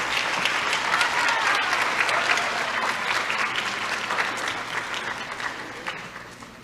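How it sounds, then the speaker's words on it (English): Loud, sustained applause from an audience honoring students at a high school academic awards ceremony in a fine arts center, steady clapping throughout that tapers slightly toward the end. "Let's give all of these students a round of applause."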